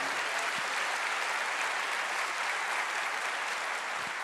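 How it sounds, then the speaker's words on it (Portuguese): A church congregation applauds during a sermon, a steady dense wash of clapping from many hands that holds evenly throughout. "Pode aplaudir."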